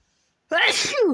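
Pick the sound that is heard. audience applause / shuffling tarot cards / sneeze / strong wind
sneeze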